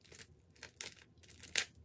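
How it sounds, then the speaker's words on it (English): Small nail scissors snip and tear at plastic CD packaging in a few quiet, close, crinkly bursts with short gaps between them. "I'm just going to use some nail scissors."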